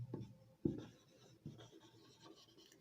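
A pen writing a sentence during a Hindi-medium English grammar lesson, a few short scratchy strokes in bursts separated by pauses, close and quiet.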